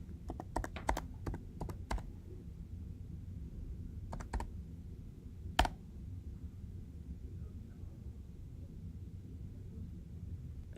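A computer keyboard is typed on in quick clusters of sharp key clicks, a burst early, a pair around the middle and one louder stroke, then a quiet low hum.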